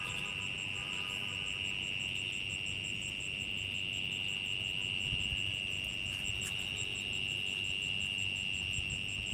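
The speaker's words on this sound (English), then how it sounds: "I like cricket noise, by the way." Crickets chirp at night in a steady high-pitched trill, a continuous pulsing drone that stays faint and unbroken throughout, with no talking.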